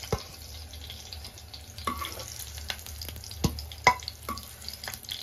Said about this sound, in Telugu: పచ్చిమిర్చి చూసారా, ఇలా ఫ్రై అవ్వాలి పచ్చిగా లేకుండా